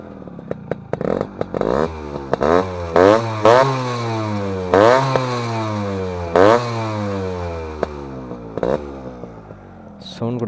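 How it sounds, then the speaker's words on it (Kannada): Suzuki Samurai two-stroke motorcycle fitted with an aftermarket silencer, revved repeatedly up and down in close, loud bursts, with a rising and falling engine whine and crackles between revs. "ಹಂಗೆ ಗಾಡಿ ಸೌಂಡ್ ಕೇಳ್ತೀರ ಅಂದರೆ ಇದು ಸ್ಟಾಕ್ ಸೈಲೆನ್ಸರ್ ಅಲ್ಲ,"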